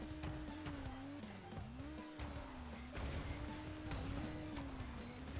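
Steady whirring hum of a kart engine in the Crash Team Racing video game, buzzy like a vacuum cleaner, with game thuds and impacts over it, faint and continuous.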